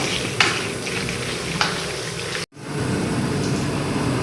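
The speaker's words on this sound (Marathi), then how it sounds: "ते सर्व जे आपण टाकलेले आहे मसाला वगैरे ते सर्व आता मस्तपैकी एकदम मिक्स करून घेते." Masala being stirred in a cooking pot for chicken biryani: a continuous sizzling, frying hiss with a couple of sharp scraping strokes, a brief dropout, then steady sizzling resumes.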